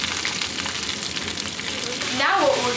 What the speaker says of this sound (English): that burning noise is normal.